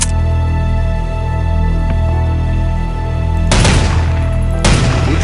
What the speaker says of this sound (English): the OICW has single shot, burst fire, and full auto firing modes. Try them out on the target in stall number 4.